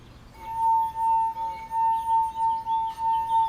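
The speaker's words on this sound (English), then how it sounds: "the wine glass of the liquid that has the highest density produces a deeper pitch" A wine glass filled with liquid rings at a clear, sustained pitch and pulses with a rhythmic swell several times, near and loud, with no talk.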